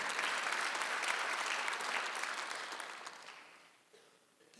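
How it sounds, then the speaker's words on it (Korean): A church congregation applauds during a Sunday worship service, dense clapping that starts full and steady, then thins and fades away over the last second or so. "박수 한번 주세요"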